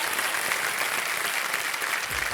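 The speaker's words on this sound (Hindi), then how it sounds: "एक बार फिर जोरदार तालियां" Studio audience applause on the Kaun Banega Crorepati game show, a dense, steady roar of clapping throughout, close and full, fading slightly at the very end.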